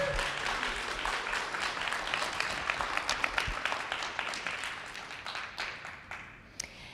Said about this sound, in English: Can we please give one more final round of applause to your 2024 See It, Be It, STEM It role models.